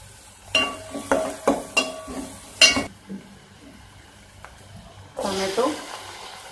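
Onion frying with ginger garlic paste in a pan, a series of sharp spoon scrapes and clinks against the metal over a low sizzle, then a louder burst of frying near the end, with a voice talking.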